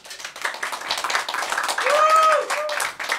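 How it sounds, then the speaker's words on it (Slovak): Audience clapping for a slam poetry performer, a dense, steady patter of hands through the whole stretch, with a voice and a brief high tone heard over it. "Veľký potlesk pre našu druhú predskokanku"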